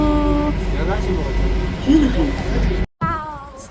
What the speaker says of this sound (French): On est dans le métro.